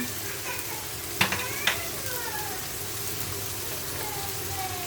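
Onion and nut paste fries in a pan with a low continuous sizzle, interrupted by two brief clinks of a spoon against the pan, with no talk.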